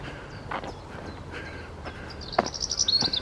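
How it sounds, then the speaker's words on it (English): A noisy bird calls outdoors along a nature trail at a wetland flash in Northwich, with faint scattered chirps and then a brighter, repeated high call near the end over soft ambient noise and footsteps. "A very noisy bird there."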